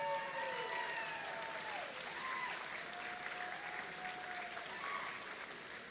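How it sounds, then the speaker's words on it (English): Sustained audience applause at a PCH District robotics event in Gainesville, a dense round of clapping that slowly tapers, with faint whistling tones drifting over the crowd. "So please join me in giving them a round of applause."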